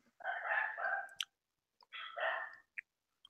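A dog barks downstairs in a house while a boy barks along in imitation, two drawn-out barking bursts about a second each, somewhat distant and moderately faint, with short clicks between them.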